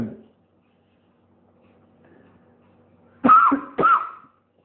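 After a quiet stretch, a voice imitates coughing with two short, rough coughs close to the listener.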